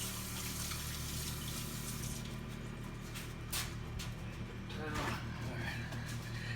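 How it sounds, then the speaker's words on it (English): Tap water running over hands being washed at a sink while preparing ribs, a steady loud rush with splashing, and someone speaks briefly over it. "Wash my hands real quick."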